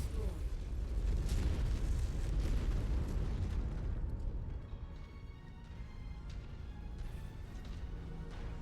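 A destroyed Trebuchet mech blows up in MechWarrior 5, a deep rumbling explosion that roars heavily at first and then fades into lingering crackles and game ambience.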